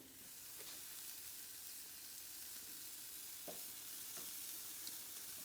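Steaks sizzle steadily in a pan with a splash of Worcestershire sauce, a continuous close hiss and crackle with a few sharper pops and no voices.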